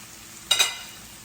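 Roasted garlic dropped into a pan of frying shrimp and mushrooms, with a brief sharp double burst of sizzle that quickly settles into a faint, fading hiss.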